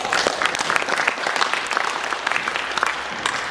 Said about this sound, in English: Give Charlie a round of applause